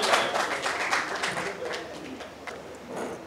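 Audience clapping at a mushaira poetry gathering to welcome a poet, a broad diffuse patter of many hands in a hall, strongest at first and thinning out, with a voice speaking faintly beneath.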